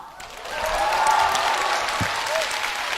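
An audience at an education forum applauds, a dense, steady wash of clapping from a crowd filling the whole moment.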